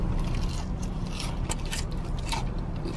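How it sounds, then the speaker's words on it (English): Crisp, crackly crunches from biting into Popeyes fried chicken skin, close to the mic, repeating irregularly over a steady low background hum. "You hear that crunch?"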